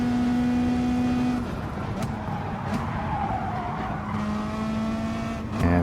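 A Jaguar race car skids off the track at Suzuka in a racing game: a sustained engine drone, then tires scrubbing and squealing over gravel for several seconds, loud and close, ending in a sharp tone burst, with no talking.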